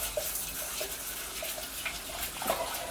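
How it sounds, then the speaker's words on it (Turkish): Rice being rinsed under a running kitchen tap, a steady close rush of water with light splashing and swirling, no speech. "Bu pirinci yıkamaya verelim yıkansın pirincimiz."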